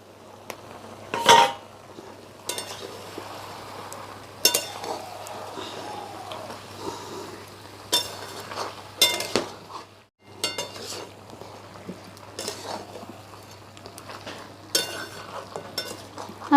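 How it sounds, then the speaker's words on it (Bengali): A spoon scrapes and clatters against a kadai while chicken curry is stirred, with a lid lifted off. Sharp metallic clinks come in irregular bursts over a low steady hum, near and fairly loud. "ঢাকনাটা খুলে একবার নেড়ে দেব"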